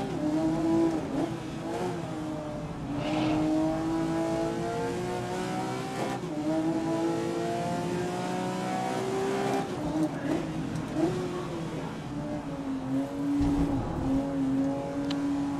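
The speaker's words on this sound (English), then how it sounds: "This Porsche sounds insane." A Porsche GT racing car in the game Grid 2019 revs hard and keeps shifting through gears, its engine note rising and falling continuously over about fifteen seconds.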